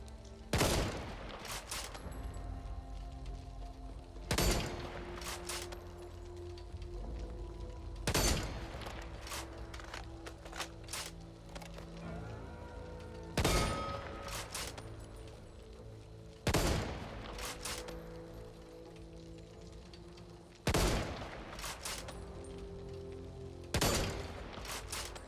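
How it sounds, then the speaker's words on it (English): Heavy single shots from a Barrett M9 .50 caliber sniper rifle in the Back 4 Blood video game, loud booming cracks spaced a few seconds apart, each followed by mechanical bolt and reload clatter in between. "the Barrett M9 has incredible stopping power. This thing will rip through standard zombies like a knife goes through butter"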